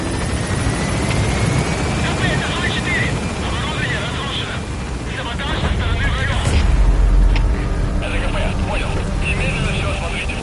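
Helicopter rising and gaining altitude in Metal Gear Solid V: The Phantom Pain, a steady loud rotor roar that swells around the middle, with music and radio voices talking over it.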